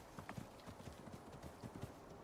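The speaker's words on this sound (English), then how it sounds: "I hear a horse." Faint, steady clip-clop of horse hooves in the survival video game Icarus, a rapid quiet trot rhythm heard from a distance under a low background wash.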